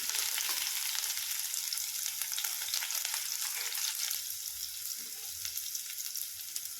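Mustard seeds and onion fry in hot oil, a bright continuous sizzle with crackling pops, loud and close at first and easing a little as it settles.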